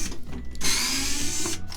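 Power drill backing screws out of a VCR case, a brief close whirring buzz with a steady motor tone that starts abruptly and stops after about a second.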